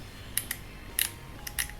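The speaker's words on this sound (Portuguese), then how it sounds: "Olha só o barulhinho que faz a Elan 7E." A Canon EOS Elan 7E film camera fires its shutter and advances the film, giving sharp mechanical clicks in close pairs, repeated several times up close in a quiet room.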